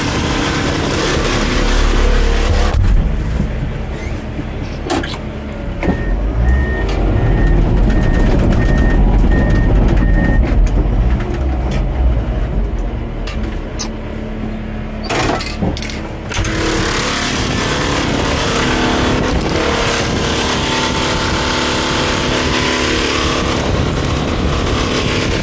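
A bulldozer marks out a conduit trench on a job site. Its engine runs continuously and fairly close, with a rumbling drone that rises and falls as it works, plus intermittent clanks and scraping.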